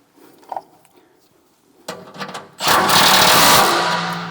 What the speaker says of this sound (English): And then snug those up with the impact.